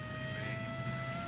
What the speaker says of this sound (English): Yeah, that's a plane.